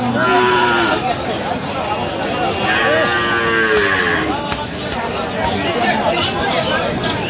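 Dairy cows and calves at a busy cattle market in Dinajpur moo loudly several times, long drawn-out calls close by, over a background of crowd chatter and people talking.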